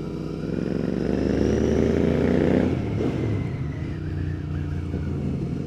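Royal Enfield Continental GT 650 with a Watsonian sidecar and black Leo Vinci exhausts, its twin engine rumbling loudly up close, rising in pitch as it revs, then easing back to a steady drone.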